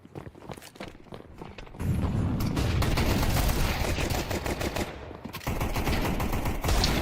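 Rapid automatic gunfire and scattered shots from a first-person shooter match, dense and loud throughout with brief gaps, footstep-like clatter mixed in and no talking.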